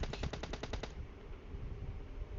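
Gunfire in a shooter video game, a quick burst of about eight evenly spaced shots in the first second, then fading into a low, muffled background.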